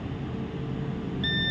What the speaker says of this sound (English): Here it's beep. It should not beep.